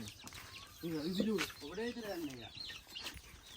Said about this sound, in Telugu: మా మునికి తీసుకొచ్చిన అన్నము కోళ్ళు తింటున్నాయి అన్ని